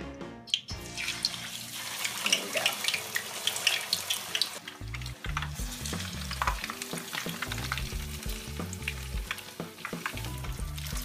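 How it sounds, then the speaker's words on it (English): Steady, close sizzling and crackling of red snapper frying in hot oil, with a low repeated thumping underneath in the second half. "After we're done frying the fish"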